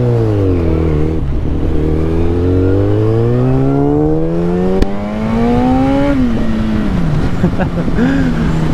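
A Yamaha FZ1 motorcycle rides loud and close on a winding road, its engine pitch climbing steadily through a long pull, easing off briefly, then rising again under constant wind noise.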